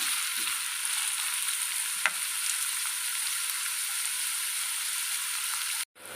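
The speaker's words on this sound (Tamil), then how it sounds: "வெங்காயத்தை நல்லா நாம் என்ன செய்யணும், நல்லா கிளறி விட்டுக்கலாம்." Onions sauté and are stirred in a pan for a vegetable kurma, giving a steady close sizzle with occasional faint utensil taps that cuts off abruptly at the end.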